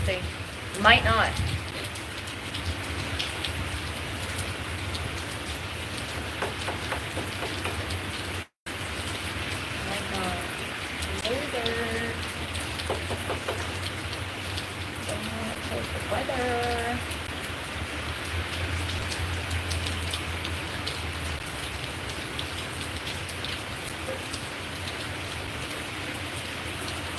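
Steady rain falls outside, a continuous hiss of drops on surfaces that stays loud and even throughout, with a voice talking faintly beneath it in places and a brief cut near the start.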